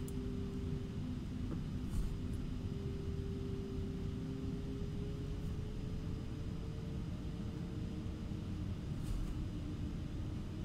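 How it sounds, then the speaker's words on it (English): An airplane taxiing on the runway after landing produces a steady low engine rumble with a faint whining tone, continuous and moderately distant, with no voices. "we're just going to taxi over to the other side here, guys, of this runway"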